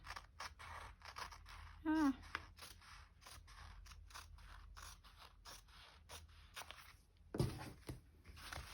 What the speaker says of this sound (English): Scissors don't cut very fast considering they're short